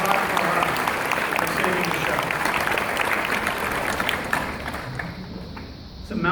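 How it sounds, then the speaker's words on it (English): Audience at a San Diego Comic Con 2017 panel for the NBC show Timeless breaks into sustained applause and cheering, loud and dense across the room, tapering near the end while a voice speaks briefly at the start. "So I think you deserve a round of applause."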